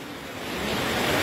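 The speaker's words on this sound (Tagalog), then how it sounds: "Ngayon lumalakas na yung ulan." Heavy rain pours down on a flooded farm, a dense steady hiss of water that swells gradually louder and fuller over the short stretch, with no voices.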